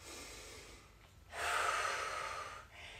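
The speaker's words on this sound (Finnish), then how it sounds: "muutama syvä hengitys myös sinne mukaan" Deep breathing during a resistance band workout: a faint exhale, then a long, strong inhale or exhale through the mouth lasting over a second, close and clear with no speech.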